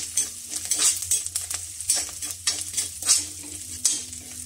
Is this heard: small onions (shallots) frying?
yes